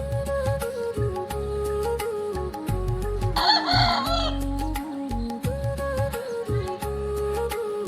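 A rooster crows loudly nearby, the call rising over steady clucking and low murmuring from a group of village chickens.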